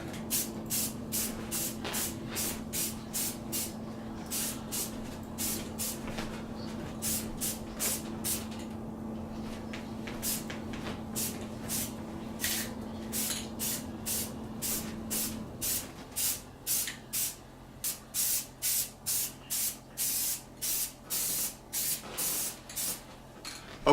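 A kettle grill chair is spray painted blue in bursts: a long run of short, sharp aerosol hisses close by, irregular at first and then settling into a fairly regular rhythm of quick sprays with brief gaps.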